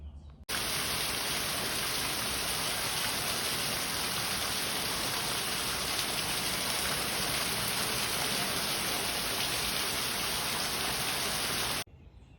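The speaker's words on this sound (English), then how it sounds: "Wasn't that just crazy, the rain?" Heavy, steady rush of rainwater pouring from a gutter onto a planted pot, loud and close, like rain spilling onto a hard surface, cutting off abruptly at the end.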